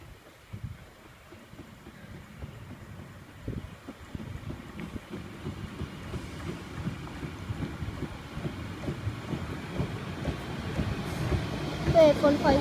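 A Great Western Railway passenger service to Paignton, class 153 diesel unit 153361, pulls away from Copplestone station, its engine rumble and rolling noise building steadily and growing louder toward the end.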